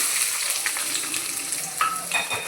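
Finely chopped onions frying in hot oil for egg rice, a steady close crackling sizzle with a few light clicks of stirring.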